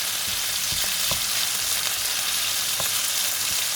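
Browned onions frying in a pan give a loud, continuous hissing sizzle, with a few dull scraping stir strokes of the spoon through the oil, and no voices.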